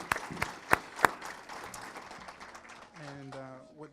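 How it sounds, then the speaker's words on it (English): A few sharp, close claps ring out in a city council meeting, followed by scattered softer clapping that fades as a voice begins speaking. "Can we give them one more round of applause as a team?"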